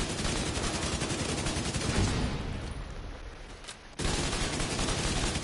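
Sustained, dense assault rifle fire in The Division 2 video game, loud and continuous with a brief dip before resuming at full intensity.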